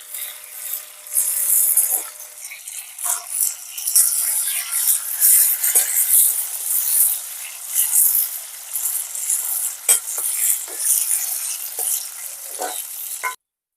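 Chillies for pickle fry and hiss in hot oil with a bright, bubbling sizzle, stirred now and then with scraping clatters, close and steady until it stops suddenly at the end.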